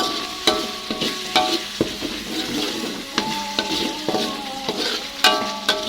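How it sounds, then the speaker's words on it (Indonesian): Spice paste for quail egg and chicken meatball balado sizzles steadily in a frying pan, with a spatula scraping and tapping the pan in an irregular rhythm, close up and with no voices. "Seperti biasa kita tumis bumbunya sampai benar-benar matang ya"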